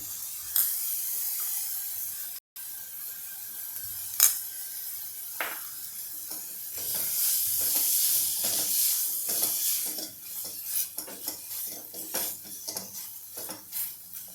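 Grated paneer stirred into butter in a pan, a soft sizzle and hiss under repeated scrapes and clinks of a utensil against the pan, louder in the second half, with no talking.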